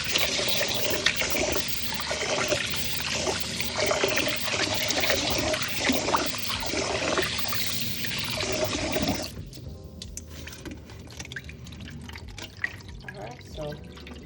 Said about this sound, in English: we usually wash the rice until the water runs clear